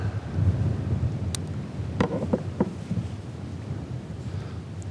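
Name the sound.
gusty wind blowing on the water while fishing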